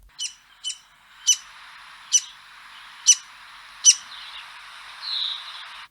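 An Indian paradise flycatcher mother calls at the nest while feeding her chicks, giving six short, sharp, evenly spaced chirps followed by a softer, drawn-out note, clear against a quiet background.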